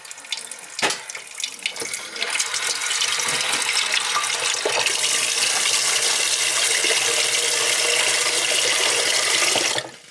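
Water runs from a tap to fill for coffee in a Crimean village home, a steady loud splashing that builds after a few faint drips and clicks and carries on alone until cut off.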